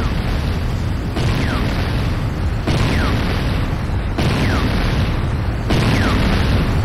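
Repeated heavy explosions hit a GDI Tiberium Refinery in Renegade, each loud boom landing roughly every 1.5 seconds over a steady rumbling roar.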